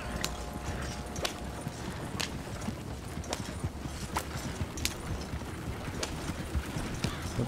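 Horse hooves clip-clop steadily in the Red Dead Online video game, an even walking rhythm of sharp thuds at moderate volume over low background ambience.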